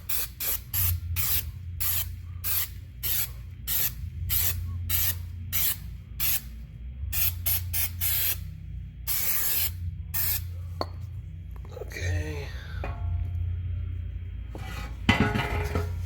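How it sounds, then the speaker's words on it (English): Rapid, repeated short bursts from a spray can of cleaner washing out transmission parts from a Saturn Ion, crisp close hisses in quick succession with a few longer sprays and clinks of metal parts. "give it a couple sprays, spray all this crap out."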